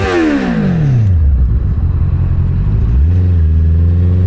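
Inline-four motorcycle engine on a highway run, revs falling in a long sweeping pitch drop, then a steady drone before a quick downshift blip and a higher sustained whine, loud and close.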